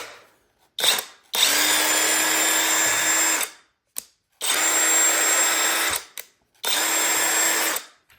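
A cordless brushless 1/2-inch high-torque impact wrench runs in three long, loud, steady whirring bursts, with short pauses and a brief blip between them.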